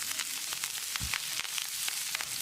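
Green chillies, chopped curry leaves and finely cut ginger fry in a hot pan with a soft, continuous sizzle and a brief stirring knock partway through.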